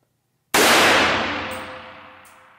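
A single AK-47 rifle shot fired in semi-automatic mode rings out close and loud, a sharp crack that decays into a long reverberant tail.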